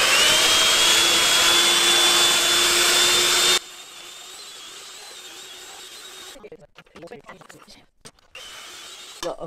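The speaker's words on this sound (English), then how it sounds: "I'll do it but with the hand mixer." An electric hand mixer with dough hooks kneads bread dough, giving a loud, steady motor whine with a rising pitch for several seconds. It then cuts off abruptly, leaving quieter handling noises and muffled bumps.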